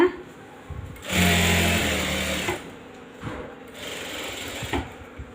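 A sewing machine stitching a saree pallu runs in two bursts, a loud whirring run of about a second and a half, then a shorter softer run, with pauses and handling noise between.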